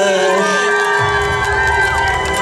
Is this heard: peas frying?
no